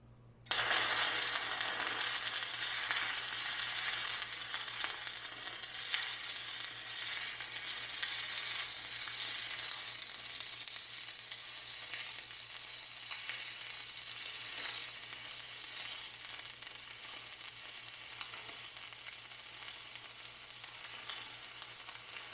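Stick welding with a Riland 250 amp welder using a poor, damp rod: a steady, loud crackling sizzle runs unbroken for over twenty seconds with scattered sharp pops, alone without speech.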